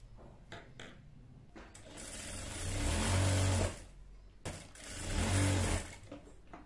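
A sewing machine stitches a plain salwar seam in two long whirring runs, loud and close, with short bursts and pauses between them and no talk over the motor.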